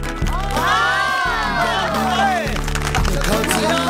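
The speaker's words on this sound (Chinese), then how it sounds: "各位给我鼓鼓掌好不好？" A lively crowd cheers, shouts and claps in a crowded festive scene, loud and continuous throughout, with excited voices calling out over the din.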